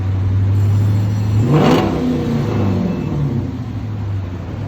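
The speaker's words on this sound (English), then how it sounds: "Dodge Charger with DYNOMAX race bullets and mid deletes." A 2015 Dodge Charger R/T with the 5.7L HEMI V8, AWD, and a dual exhaust fitted with Dynomax Race Bullets and mid-pipe deletes gives a loud, close rev that swells to a peak and settles back to a deep, rumbling idle.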